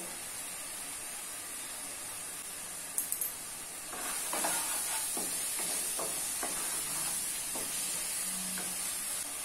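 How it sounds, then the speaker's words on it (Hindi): Masala cooks in a pan for chicken masala, first a faint, even hiss, then louder sizzling with a run of spoon scrapes and knocks as it is stirred. "अभी इसको लगभग 2 मिनट तक कुक कर लेना है ताकि मसाले अच्छे से पक जाए।"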